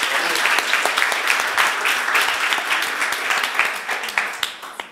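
A conference audience applauds a presenter at a recruitment challenge final: loud, close, crisp clapping with distinct individual claps, sustained for several seconds and tapering toward the end.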